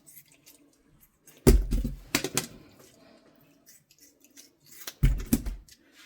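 Scissors snip through the gills and fins of a fish being cleaned in a home kitchen, giving a few sharp crunching cuts in two short bursts with quiet pauses between.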